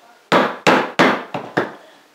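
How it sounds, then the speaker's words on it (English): A rubber hammer taps a soft copper bracelet five times in a steady rhythm. Each blow is close, dull and muted, and the last two fall a little lighter. "So, if I use this rubber hammer, it won't mark it, you see."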